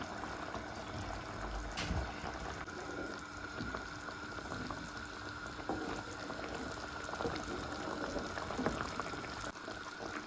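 Onion simmers in coconut milk for a Jaffna-style chicken curry, with curry leaves added and no oil. A steady, moderately loud bubbling and hissing continues throughout, with a few soft clicks and no voices.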